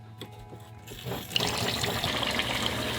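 A faucet is turned on, and after a second a steady rush of running water fills the space, continuing loud and even.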